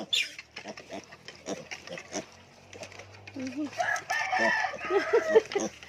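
Piglets squeal and grunt while nursing on a sow, short bursts of high squeaks and lower grunts crowding together and growing louder toward the end, with a person talking intermittently nearby.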